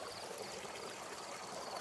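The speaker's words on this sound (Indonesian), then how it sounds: "Ini suara sungai kecil ya" A small stream in a pine forest babbles steadily, a soft continuous wash of trickling water with no voices.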